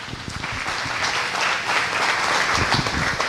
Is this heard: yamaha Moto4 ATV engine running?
no